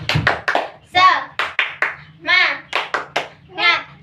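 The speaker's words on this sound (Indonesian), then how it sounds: "Nah, sebelumnya Ibu mau tepuk semangat lagi nih supaya lebih berkonsentrasi" A class of children performs the tepuk semangat clapping routine in a classroom, with several rhythmic bursts of quick hand claps alternating with voices chanting along, the clapping close and lively.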